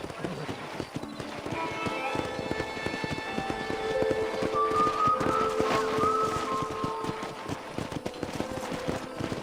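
In Red Dead Redemption, horses in a ranch corral clop and shuffle with occasional whinnies, set against layered game music and a talking voice.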